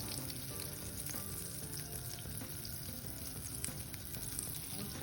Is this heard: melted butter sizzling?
yes